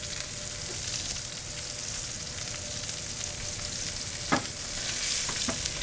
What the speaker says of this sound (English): you're searing it correctly to get a nice crust